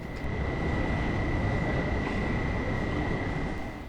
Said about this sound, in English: our Panda train returns from the sidings and is ready to board